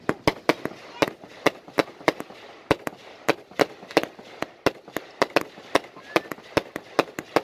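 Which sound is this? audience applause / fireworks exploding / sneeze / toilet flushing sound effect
fireworks exploding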